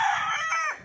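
A rooster crows once, loud and close, in a brief full crow at a small backyard chicken farm near a house, with no talk over it.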